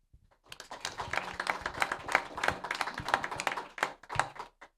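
Small audience at an evening venture capital panel claps in an uneven burst, individual hand claps distinct and close, swelling then trailing off after a few seconds.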